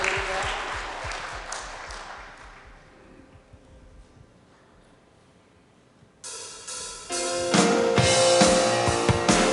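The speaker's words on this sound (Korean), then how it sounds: "죽임 당하신 어린 양을 영광의 박수 드리며" A church congregation claps during Sunday worship, with brisk applause at first that fades into quiet. Loud instrumental worship music then starts.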